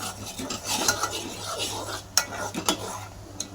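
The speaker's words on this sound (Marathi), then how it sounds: "चला आता आपण मसाला परतून घेऊ" Black masala stir-frying in a pan, a soft steady sizzle under scraping and clinking of a spoon against metal, with a few sharp taps, close and moderate.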